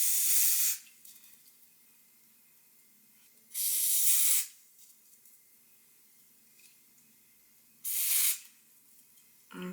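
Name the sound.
spraying hair spray on a wig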